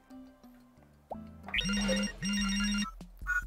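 A phone rings in the video game Youtubers Life 2: a few soft tones, then loud repeating electronic ringtone bursts with short gaps between them, alone with no talk.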